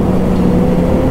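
BMW S1000RR motorcycle exhaust, a loud, close, low engine roar that holds steady through a brief moment.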